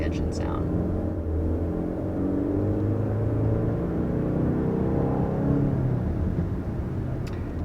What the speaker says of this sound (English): so it just is slightly enhancing the engine sound